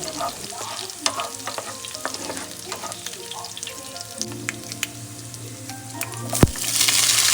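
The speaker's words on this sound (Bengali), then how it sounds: "তারপরে দিয়ে দিচ্ছি চপড গ্রিন চিলিস, তারপরে দিয়ে দেবো চপড গার্লিক মানে রসুন কুচি। এবার এটাকে আমি একটু ফ্রাই করে নেব।" Chopped green chillies and garlic frying in a pan, a continuous close sizzle with stirring scrapes, rising to a louder hiss near the end.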